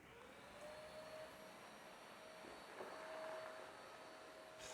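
Vacuum cleaner cleaning up floor debris after removing a damaged floorboard, a faint steady whine and hum with a thin sustained tone, heard alone without voices.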